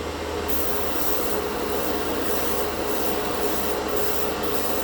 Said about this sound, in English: I can hear the compressor dying as I push this in